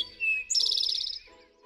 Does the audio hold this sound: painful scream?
no